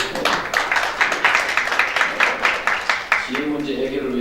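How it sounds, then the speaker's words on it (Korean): A gathering applauds a regional committee chairman at a party special committee meeting with rhythmic, fairly close clapping, and a voice speaks over its tail end. "참석에 대해서 박수 한번 보내주세요."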